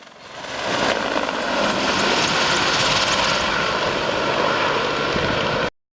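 Military helicopters and aircraft, including bombers, roar overhead as close air cover for a beach landing during a naval exercise, a loud steady broadband engine and rotor wash sustained throughout before cutting off abruptly.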